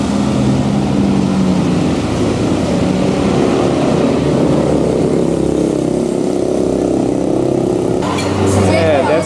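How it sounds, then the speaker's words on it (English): An F-27 propeller airplane gives a loud, continuous broadband drone that holds steady for several seconds, then shifts in tone near the end as another rush of sound enters. "that's the airplane we're going to be taking in"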